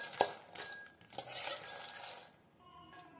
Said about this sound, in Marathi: बघा मखाने आपले छान फ्राय होतच आलेत